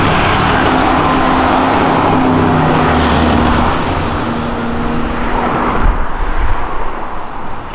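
A Chevrolet Monza roars past up close on a city avenue, its engine loud and steady before the sound drops away as it passes.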